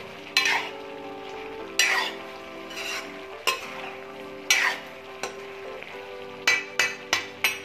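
A spoon scrapes and clanks against a pan as a potato and cauliflower curry is stirred over the heat, with repeated sharp knocks over a steady low sizzle and no voices.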